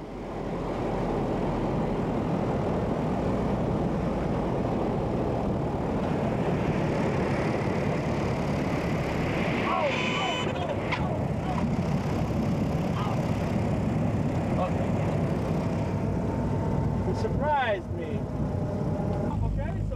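Propeller airplane taxiing toward the ramp after a flight from Israel to Jordan, its engine drone steady and loud throughout, with a voice talking over it.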